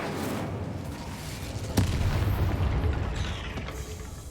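The Incendio fire spell cast in Hogwarts Legacy against a spider, a sudden sharp crack followed by a rumbling, booming burst of flame that rolls on for a couple of seconds over low game ambience.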